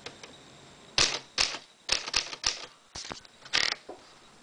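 A Remington-Rand portable typewriter gives sharp, irregular keystrikes with crisp metallic clacks in small clusters and brief pauses. The sound is close and fairly loud, with no voices.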